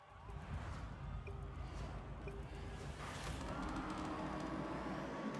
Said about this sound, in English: Oh, listen to that engine noise,